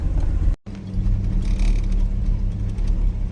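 A 1989 Jeep Comanche engine idles with a rattly, uneven rumble close by, briefly cutting out before the steady idle carries on.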